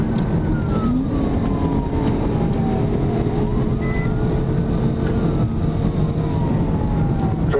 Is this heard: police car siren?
yes